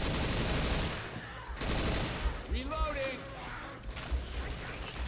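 Gunfire from an SG552 assault rifle in the video game Left 4 Dead 2, with loud bursts of rapid shots, brief pauses, and other game sounds and faint voices in the mix.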